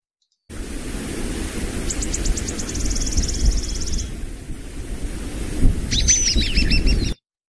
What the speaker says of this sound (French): Il me semblait que j'avais oiseau et vent, oiseau et vent.